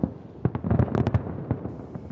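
Fireworks burst over the White House after a US presidential inauguration, a dense run of rapid crackling pops and booms, loud and close, with no voices.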